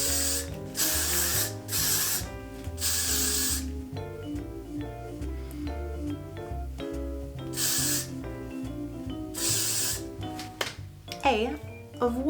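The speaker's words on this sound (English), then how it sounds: "spray the shit out of it." Several long hissing bursts of aerosol hairspray sprayed onto a short-hair half-up hairstyle, coming in separate pulses over steady background music.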